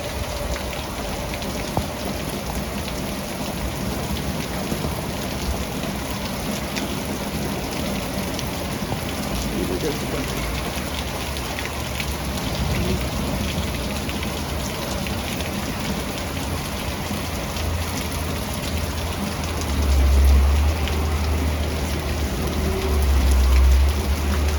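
A nighttime thunderstorm with steady, heavy rain pounds nearby surfaces, gusty wind under it and deep low rumbles of thunder swelling near the end.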